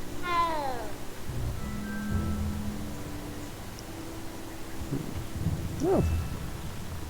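A cat meows a couple of times inside the castle in Hogwarts Legacy, clear descending cries at the start and again near the end over a low ambient game rumble.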